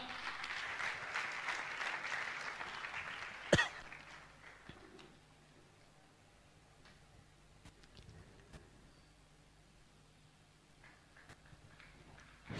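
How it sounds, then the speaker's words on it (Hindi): Audience applause at a Jain religious discourse gathering, a burst of many hands clapping that peaks and then fades after a few seconds, leaving a quiet hall with a few stray claps and soft knocks. "आपकी जोरदार तालियां"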